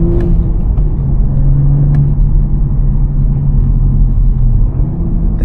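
A 2024 Toyota GR Supra with a manual gearbox pulling away, its engine giving a loud, steady low rumble and whir heard from inside the car, with no talk.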